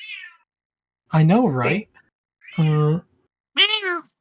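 A cat gives three loud, drawn-out meows close by, each rising and falling in pitch, with short silences between them. A brief bit of talk comes at the start.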